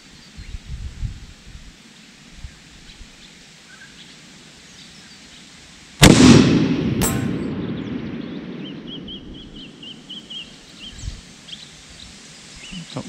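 A 300 Win Mag rifle fires one loud, close shot at a long-range target, with a sharp crack, a second report just after, and a long rumbling echo that fades over several seconds outdoors.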